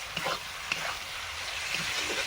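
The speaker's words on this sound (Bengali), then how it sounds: "সাথে সাথে মাঞ্চুরিয়ানে চিকেনগুলো ভেজে নিচ্ছি।" Chicken pieces frying in hot oil for chicken manchurian, a steady close hiss and sizzle with faint crackles and occasional utensil stirring sounds throughout.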